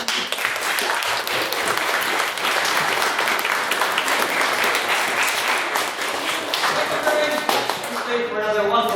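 Audience applause follows a student debate speech, steady dense clapping sustained throughout and fading toward the end as a voice begins to come through.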